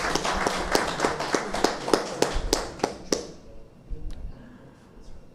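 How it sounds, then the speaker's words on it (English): Applause for a minister at an agriculture ministry event, a loose, sparse burst of individual claps that thins out and stops after about three seconds, leaving scattered faint taps in a quiet room. "Let's give the minister another round of applause, please."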